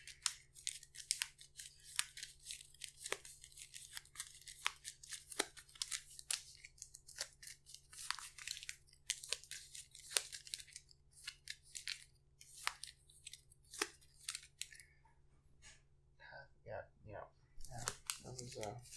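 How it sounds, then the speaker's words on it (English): Playing cards for the Arkham Horror card game are shuffled by hand at a table, giving a long run of dense, crisp riffling and snapping bursts, fairly close and continuous for most of the stretch, with a brief pause near the end. "these 3 cards need to get shuffled back in"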